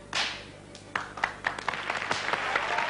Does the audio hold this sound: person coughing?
no